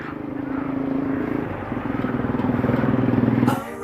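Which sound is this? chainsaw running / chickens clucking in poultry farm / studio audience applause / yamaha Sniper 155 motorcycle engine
yamaha Sniper 155 motorcycle engine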